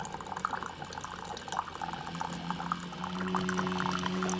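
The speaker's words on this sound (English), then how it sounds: "I'm going to have to take the coffee from there and transport it into this mug" Coffee pours from a coffee pot into a mug, a soft continuous trickle whose tone rises as the mug fills, with faint kitchen background and no talk.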